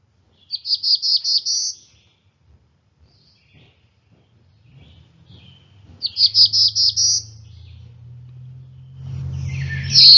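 Black-throated blue warbler singing two buzzy, rising phrases of several rapid notes each, clear and fairly close, separated by a quiet gap, with a low rumble building toward the end.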